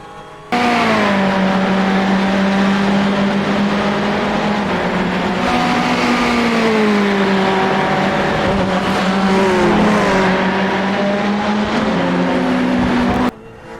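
A Ferrari 488 race car engine in iRacing at the Charlotte Roval drones loudly and continuously, its pitch dipping and climbing through downshifts and acceleration, with no other sounds over it.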